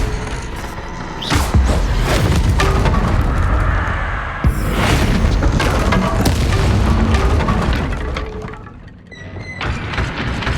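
Bombarda explosion spell cast in Hogwarts Legacy: two heavy, booming blasts, at about 1.3 and 4.5 seconds, each rolling into a long, loud rumble of crashing debris, with no talking.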